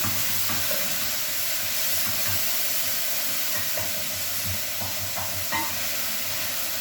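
Tomatoes and capsicum cooking in a covered pot, a steady soft sizzle and hiss with faint bubbling and occasional light ticks, continuous with no talk.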